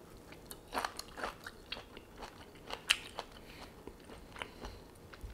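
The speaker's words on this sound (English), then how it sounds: "The crunch, you just hear the crunch." Crunchy chicken gizzard yakitori with karashi is chewed up close, giving a series of sharp, irregular crunching bites over about five seconds, quiet overall with no talking.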